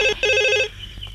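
A telephone rings with two loud electronic bursts separated by a short gap, then falls quiet; it is a call being placed to a police station in a Bhojpuri film scene.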